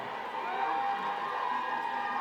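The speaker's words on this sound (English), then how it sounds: "They're cheering me on that one." Audience crowd at a political speech by sheriff Joe Arpaio cheers and whoops steadily for a couple of seconds, a dense sustained roar at moderate loudness.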